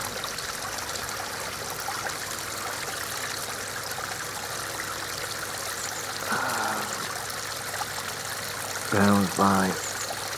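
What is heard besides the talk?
waterfall trickling into a wildlife pond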